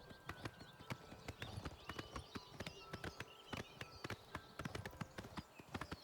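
Steady clip-clopping of horse hooves from a ridden horse in the game Oblivion Remastered, a quick, even run of close hoofbeats with no voices.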